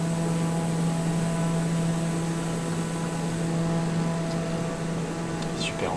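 TBM 930 turboprop aircraft in flight in Flight Simulator 2020, a loud, steady cockpit drone with a constant low engine hum and broadband airflow noise throughout, no speech.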